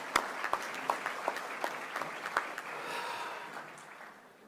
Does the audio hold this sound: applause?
yes